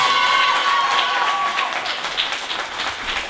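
An audience at a dance academy event applauds with a diffuse, steady patter of clapping and a faint sustained tone early on, moderately loud and continuous throughout.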